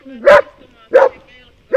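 A dog barks three times during a temperament test with a sled, loud, close, evenly spaced woofs with a brief whine at the start.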